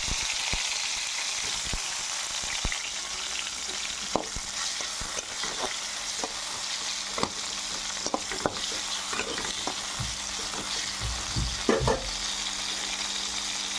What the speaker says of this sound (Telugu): ఇందులోకి టమాటాలు వేసుకుంటాను